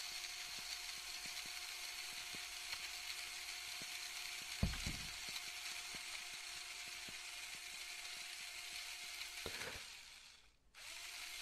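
In a heist video game, a drill runs steadily and continuously, giving a constant mechanical whine with faint repeated ticks and clunks. Near the end it briefly cuts out and then starts up again.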